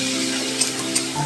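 Onions and ginger-garlic paste fry in a pan with a steady, close sizzle and a couple of brief sharper crackles, with no voices.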